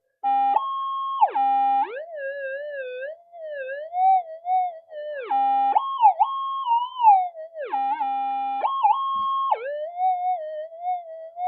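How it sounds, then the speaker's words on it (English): A Minelab GPX5000 metal detector switched on in mono mode gives a loud, steady electronic tone that shifts pitch in stepped warbles and glides, continuous throughout with short breaks. "So it's in, I've turned the detector on, it's in mono."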